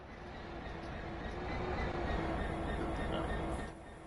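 A Train Sim World 3 freight train on the Manchester to Glossop line rolls along with a steady, faint rumble and a soft rising swell midway. Sparse talk sits faintly alongside.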